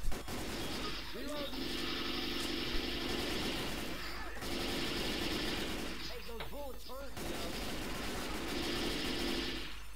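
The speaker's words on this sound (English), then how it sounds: "I'm about to run out of ammo in this thing, but this is a beast of a gun" Guns fire in Left 4 Dead 2's Dark Carnival campaign, with long stretches of rapid automatic bursts broken by brief pauses, loud and dense over game noise, while players talk.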